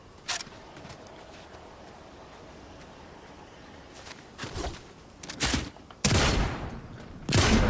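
Battle gunfire in the shooter game Fortnite, heard as scattered sharp shots and bursts over a low background hum, growing louder and denser toward the end, with no speech.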